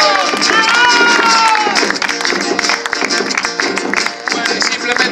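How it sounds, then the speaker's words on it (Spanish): An audience at a cultural centre concert claps and cheers loudly after a percussion performance, with a crowd babbling over the applause throughout. "todas las mujeres y todos los hombres, fuerte el aplauso"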